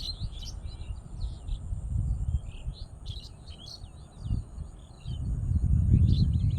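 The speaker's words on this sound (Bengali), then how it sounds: "প্রচুর পরিমাণ পাখির কলকাকলি শোনা যাচ্ছে।" Birds perched on power lines in a Bangladeshi village chirp and tweet steadily, with busy overlapping calls over a low rumbling background.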